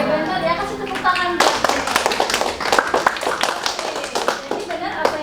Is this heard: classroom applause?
yes